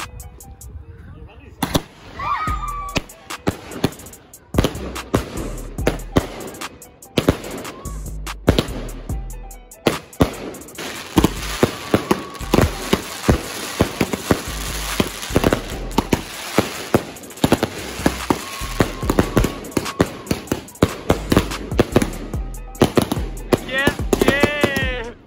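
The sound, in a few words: fireworks at Mehndi wedding celebration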